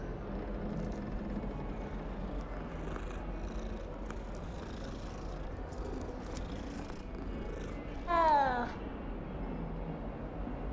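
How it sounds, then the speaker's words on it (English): Cat meowing inside the Hogwarts Legacy video game, a brief rising-and-falling meow standing out for under a second over a steady bed of game ambience and background noise, with a voice talking at points. "Why is there a cat over here?"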